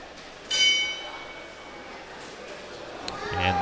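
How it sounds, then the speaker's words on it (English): A boxing ring bell marks the start of round 1 at an amateur USA Boxing event, heard as a brief ring amid arena crowd noise and ongoing commentary. "And the bell for round 1."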